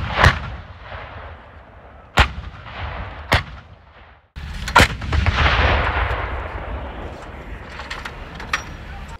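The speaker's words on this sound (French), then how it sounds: "Le bataillon d'artillerie dont je suis le chef réalise ici son premier exercice de tir" A French-led artillery battalion fires during a NATO exercise at a Romanian base. Several sharp, heavy booms come at irregular intervals, and each one leaves rumbling echoes and a lingering outdoor roar, with faint voices in the background.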